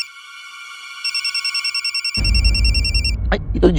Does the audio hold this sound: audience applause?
no